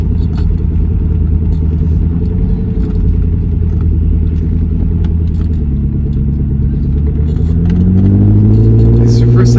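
A 1997 Lotus Esprit V8 twin turbo drones loudly from inside the cabin while driving, its low engine rumble steady and climbing in pitch as it revs near the end.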